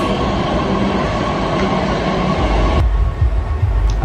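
An underground Pune Metro train rumbles loudly and steadily past, wheels clattering on the rails, then the sound drops abruptly near the end as the cars clear.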